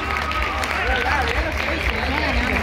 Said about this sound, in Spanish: Che, fuerte el aplauso.